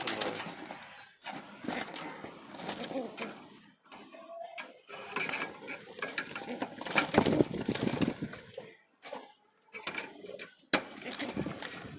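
Running Jalali pigeons, males and females together, coo and flutter close by in bursts of soft calls and wing flaps with short quiet gaps between them.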